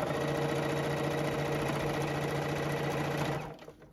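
A JUKI sewing machine stitches through thick tote bag straps with a steady, loud, continuous mechanical whir that stops abruptly near the end.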